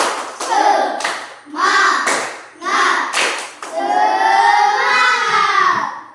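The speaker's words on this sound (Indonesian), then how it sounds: "Kita akan tepuk semangat." A classroom of students performs a rhythmic spirit clap, tepuk semangat, in bursts of group clapping with a steady beat, followed by the class shouting or chanting together, loud and close.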